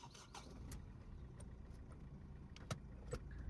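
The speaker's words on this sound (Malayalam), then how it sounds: "വണ്ടിയുടെ സ്റ്റാർട്ടിങ് സൗണ്ട് ഒന്ന് കേൾക്ക്" A Ford Fiesta diesel under restoration cranks and settles into a low, rough rumble up close, with a few sharp clicks and knocks over the steady engine drone.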